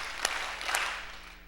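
A standing audience claps hands together in unison, giving a couple of sharp, faint claps spaced about half a second apart over quiet room hiss.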